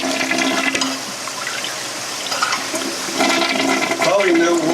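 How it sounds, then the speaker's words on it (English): A toilet flushes in a vacant house where the bowl had dried out: a loud, close rush of water that swells, eases, then gurgles and refills, with a voice speaking in the room. "There's no water in the toilet. So we're just going to go ahead and flush it."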